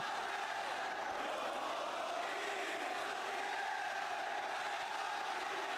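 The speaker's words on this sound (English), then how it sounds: "The crowd is phenomenal." A large wrestling arena crowd at a WWE Smackdown event roars and cheers steadily, a dense, continuous wash of thousands of voices with no break.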